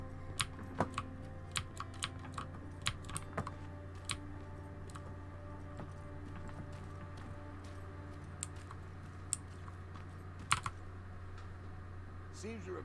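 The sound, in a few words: typing on IBM Model M mechanical keyboard in Terminator Resistance video game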